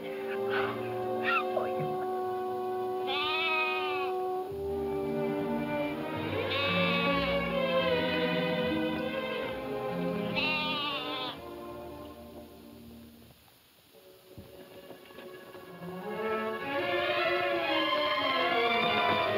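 Two orphaned lambs bleating repeatedly, high wavering cries close by, overlapping with a person talking and faint rain-like background noise.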